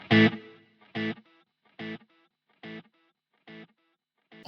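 Short distorted guitar stabs repeat about once a second, each trailed by quieter echoes that fade slowly, with the repeats lingering longer on one side.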